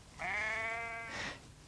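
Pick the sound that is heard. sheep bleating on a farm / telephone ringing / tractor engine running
sheep bleating on a farm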